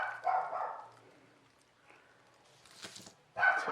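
A dog barks in a few short bursts near a home jewelry-making workspace, loud at the start, then quieter rustling, with another sharp burst of barking at the end; no one speaks.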